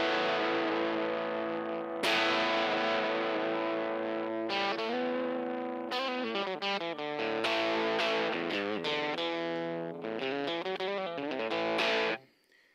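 Electric guitar played through a Little Bear Fuzz distortion pedal, thick sustained fuzzy chords and riffs ringing loud and close, with a long held chord, choppier strummed bursts in the middle, then a sudden cut to silence.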